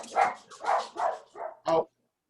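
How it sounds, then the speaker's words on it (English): Dogs bark indoors in five sharp, evenly spaced woofs, loud and close, then stop abruptly into silence. "Oh, Kitty, my dogs are talking to your dog."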